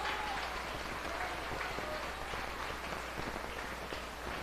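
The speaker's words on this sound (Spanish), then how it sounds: "dele palmas fuertes al Rey de Reyes y Señor" A church congregation claps loudly for a sustained stretch during a Spanish-language service, a dense, even roar of many hands with no voices on top.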